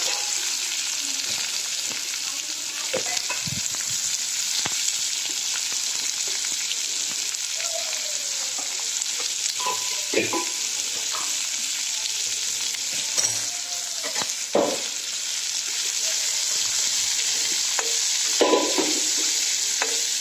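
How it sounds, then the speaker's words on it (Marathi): Onion frying in hot oil with mustard seeds, cumin and curry leaves, a steady close sizzle with occasional spatula stirs and scrapes over twenty seconds, no talk. "आता हे कांदा टाकते"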